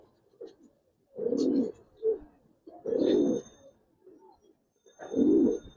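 Giribaz pigeons coo in a series of three or four low, throaty bursts with short pauses between, close by, with faint chirps in the gaps.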